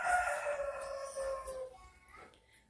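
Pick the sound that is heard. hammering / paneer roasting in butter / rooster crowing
rooster crowing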